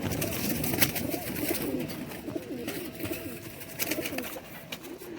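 High flyer pigeons cooing, with soft repeated throaty coos close by over a busy background, and a voice speaking briefly.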